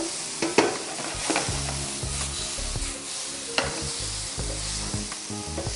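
Chopped tomatoes for Gujarati dal sizzle in a hot pan while a spatula stirs and scrapes them, a close, continuous frying hiss broken by occasional clinks, with no one speaking.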